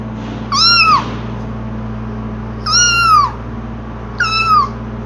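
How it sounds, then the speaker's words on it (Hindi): A domestic cat meows three times, each a drawn-out, falling call spaced a second or two apart, close and clear over a low steady hum. "अब आप इसकी मियाओ आवाज़ सुने।"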